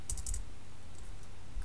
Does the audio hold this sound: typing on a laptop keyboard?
yes